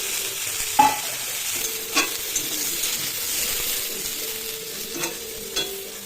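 Soybean chunks drop into a pan of frying pumpkin and potato, a steady loud sizzle running throughout with a few spoon scrapes and taps, no voices.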